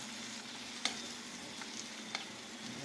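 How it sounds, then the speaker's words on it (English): Food frying in a pot while being stirred, a quiet steady sizzle with two or three brief clicks of the spoon against the pot. "I'm gonna hold this handle here while I stir."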